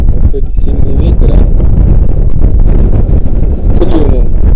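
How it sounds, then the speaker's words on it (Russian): Strong wind buffets the microphone out on the water during a pike-fishing trip, a loud, rough, continuous roar with gusts, and someone talks over it. "Вот тут сильный ветер."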